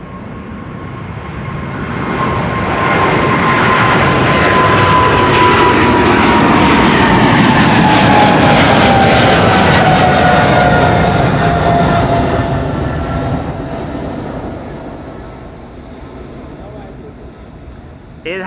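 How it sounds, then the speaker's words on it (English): An Airbus A380 taxis past the southern threshold of the center runway at Amsterdam Schiphol, a loud sustained jet engine roar swelling in and slowly fading over several seconds, with a whining tone gliding downward as it passes. "The A380 here, passing around the southern threshold of the center runway."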